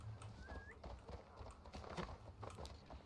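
Horse hooves clip-clop in a steady rhythm in Assassin's Creed Valhalla, close and distinct, with a brief whinny near the start.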